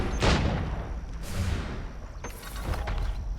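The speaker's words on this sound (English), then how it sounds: "Shoot the guards at the fort's entrance. Kill mercenaries using firearms." Firearm shots aimed at fort guards in Assassin's Creed III, a few loud bursts near the start and again after two seconds, over constant battle noise.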